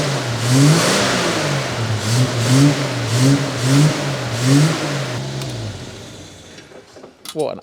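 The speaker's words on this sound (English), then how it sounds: "I was revving that from cold" A car engine revs hard several times from a cold start, rising and falling in a steady pulsing rhythm close by, then settling toward the end as people talk nearby.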